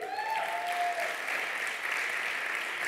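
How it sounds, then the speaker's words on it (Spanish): A church congregation breaks into broad, steady applause for the king during an energetic Spanish sermon, while a brief sustained tone rings out at the start over the clapping. "Dale un aplauso al rey"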